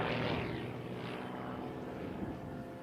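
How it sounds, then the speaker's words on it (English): A Game Bird aerobatic airplane flies a display at the US Nationals, its propeller engine droning loudly with swelling and fading pitch sweeps as it passes, moderately distant and without talk over it. "Steinbach showing that off for you today, flying the Game Bird."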